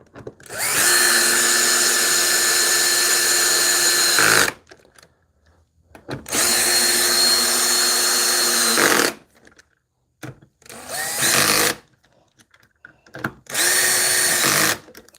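Power drill driving bolts during office furniture assembly, four loud whirring bursts of a few seconds each separated by short quiet pauses, close by.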